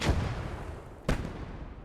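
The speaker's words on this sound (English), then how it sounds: "Those mortars are so damn annoying." Two deep mortar blasts in the Gates of Hell war game, one at the start and a sharper one about a second later, each a loud booming thump over a rumbling battlefield bed.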